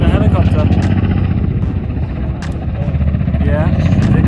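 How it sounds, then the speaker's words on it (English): A helicopter flies overhead, its loud continuous rotor and engine drone filling the scene under excited voices talking nearby. "Do you see the helicopter?"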